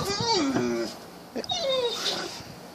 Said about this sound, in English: That's one of my crazy dogs.